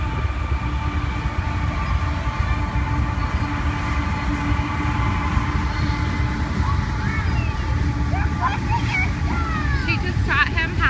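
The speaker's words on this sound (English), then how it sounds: "here's a train coming through" Train rolling past a downtown pier and boardwalk, a steady low rumble and hum with rail squeals near the end, heard close under a person talking.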